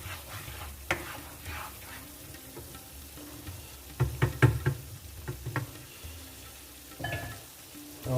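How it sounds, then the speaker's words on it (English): Chicken Madras curry with base gravy being stirred on the bone in a pan: a low, continuous sizzle runs under intermittent scraping and knocking of a utensil against the pan, with a cluster of louder strokes in the middle. "So I'm just going to give it another stir"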